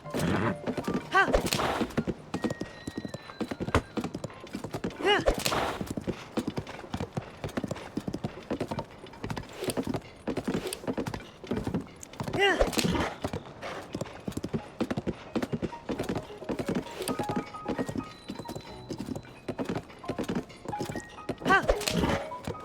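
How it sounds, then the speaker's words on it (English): Rhythmic clip-clop of a horse's hooves at a steady gallop in The Legend of Zelda: Tears of the Kingdom, continuous and fairly close, with occasional thuds and background game sounds. "We'll take the horse."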